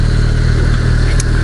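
Benelli Leoncino motorcycle engine held steady at around 4000-5000 rpm while riding, a loud continuous drone with a firm low throb and constant wind rush.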